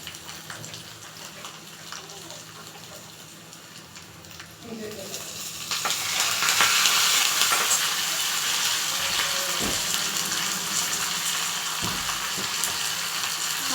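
Curry leaves crackle in hot oil for a sambar tempering. A quieter hiss swells into a loud, bright sizzle about midway and stays strong, with faint background movement.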